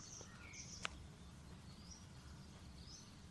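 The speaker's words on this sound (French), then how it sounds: "Et on entend les oiseaux un peu partout." Scattered faint bird chirps and short calls sound outdoors in nature, distant and sparse, with one brief sharper note, over a steady low background rumble.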